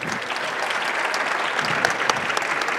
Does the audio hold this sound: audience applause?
yes